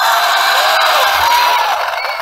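A large crowd cheers and whoops loudly in a sustained, dense roar that stays steady throughout without letting up.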